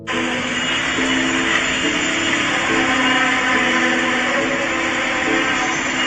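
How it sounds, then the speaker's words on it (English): A loud, steady, droning rumble with a harsh metallic hum, sustained without a break for several seconds, no voices. "This same crazy mysterious sound was heard all around the world from the sky."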